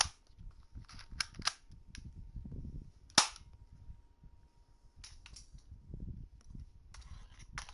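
A BB gun fires several sharp, close pops indoors in a bedroom, with the loudest crack near the middle, each shot separated by quiet rustling.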